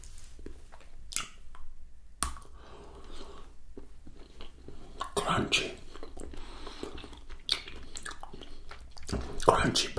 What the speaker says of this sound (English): Crunchy Belgian chocolate truffle, this one.